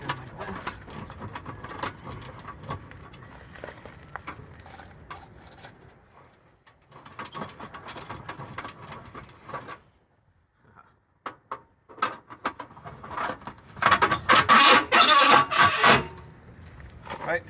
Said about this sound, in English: We're going to pull out this tool, and we're just going to lower down these stabilizer bars.